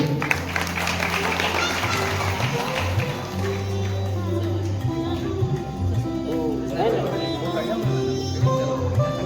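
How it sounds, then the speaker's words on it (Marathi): Audience applause rings out during an honouring ceremony for donors at the Ashadhi Wari pilgrimage, steady and sustained across the crowd, with tonal music and voices mixed in throughout. "सन्मान होत असताना कृपया विनंती आपण टाळ्या वाजून त्यांचं कौतुक करायचे."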